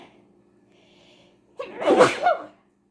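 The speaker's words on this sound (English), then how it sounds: "I got a sneeze coming on." A single sharp sneeze bursts out after a brief quiet intake, loud and close, then silence.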